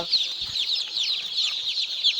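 Young colored chicks in a freshly prepared brooding pen give a constant high, shrill chorus of peeps close by, with a faint thump partway through.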